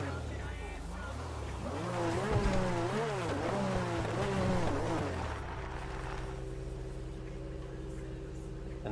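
Addon Lamborghini Huracán Performante car engine in FiveM, the modded GTA V game, revving up and down in steady sweeps of rising and falling pitch, loud and close, then settling into a low idle for the last few seconds.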